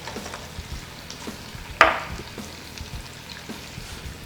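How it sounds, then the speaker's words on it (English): Whole garlic cloves fry in oil alongside chicken, giving a soft, steady sizzle with a single sharp clink partway through. "This is a good time to add the garlic, I think. I'm adding it now because I'm using whole garlic cloves."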